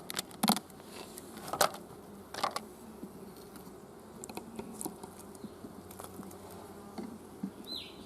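Honey bees buzz around a hive in a soft, continuous hum, with sharp clicks and taps of handling breaking through at irregular moments.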